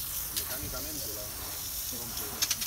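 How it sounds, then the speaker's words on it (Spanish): Water hits hot charcoal (biochar) and turns to steam with a soft, continuous hiss and faint crackles, while voices murmur quietly in the background. "Con el vapor del agua. Sí. Se va escuchando."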